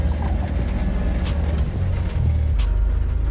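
An old OBS pickup truck under way on a test drive, its engine droning low and steady with road and wind rumble, close and continuous.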